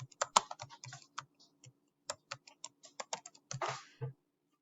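Quick, irregular clicking of keys on a computer keyboard, close and crisp, in short bursts with brief pauses, over an otherwise quiet background.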